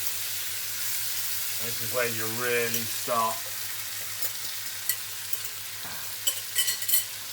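Mackerel fillets sizzle and fry steadily in a pan while being stirred, a continuous crackling hiss running throughout, with a person talking briefly over it near the start.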